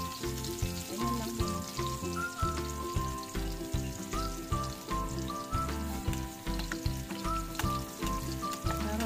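Garlic frying in a pan outdoors on a farm, a constant loud sizzle laid under steady rhythmic music with a thumping beat throughout.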